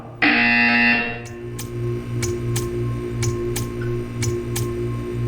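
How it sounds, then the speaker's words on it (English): A loud electronic buzzer tone sounds once for about a second in the Portal 2 video game, followed by a steady low hum and a series of sharp repeating clicks at regular intervals. "When you hear the buzzer, stare at the art."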